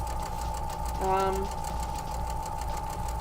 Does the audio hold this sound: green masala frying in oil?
no